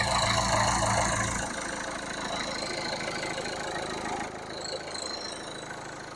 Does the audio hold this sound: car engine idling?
yes